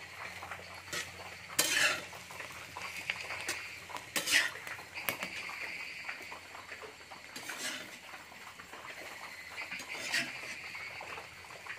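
A ladle stirs a pot of cooked wild greens, giving several scattered metallic scrapes and clinks against the vessel, with a few sharper knocks standing out over a steady low kitchen background.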